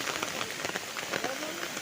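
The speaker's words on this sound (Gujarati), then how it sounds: "વરસાદ ચાલુ છે" Steady heavy rain pours down during flooding of the Malan river in a village, a dense continuous hiss of drops striking surfaces with faint scattered movement beneath.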